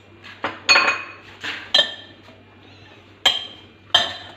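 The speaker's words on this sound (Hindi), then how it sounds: "इसको अच्छी तरह मिक्स कर लेंगे" Spoon clinking against a bowl while mixing macaroni chicken salad with sauce, several sharp clinks and scrapes in an irregular rhythm, close and clear with no talk.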